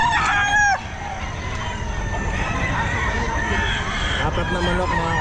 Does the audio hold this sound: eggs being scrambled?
no